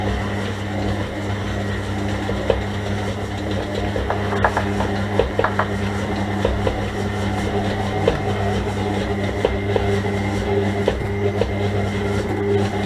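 Stand mixer working sweet pastry dough, a steady droning motor hum with rhythmic mechanical knocking and ticking as the machine labours, close and continuous with no talk.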